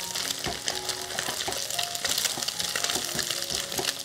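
One egg scrambled in a little hot oil in a pan sizzles steadily up close while a spatula taps and scrapes rhythmically against the pan, with no talk.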